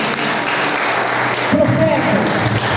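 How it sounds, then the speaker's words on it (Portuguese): A church congregation claps during a Portuguese-language sermon on Zacchaeus, a short, steady burst of applause with a voice briefly rising over it partway through. "Você podia aplaudir o Senhor por isso?"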